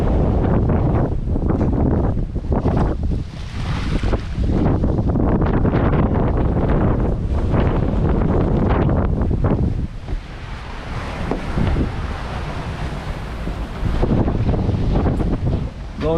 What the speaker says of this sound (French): C'est du vent du sud.